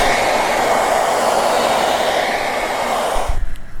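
An InStyler 7X smart hair dryer blows with a loud, steady whooshing roar close by, then cuts off abruptly near the end.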